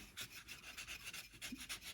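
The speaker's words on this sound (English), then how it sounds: "you need to protect the eye while you're doing this sanding" Quick, rhythmic rasping strokes of sandpaper rubbing against a carved tupelo wood duck body, close and fairly quiet, repeating about a dozen times.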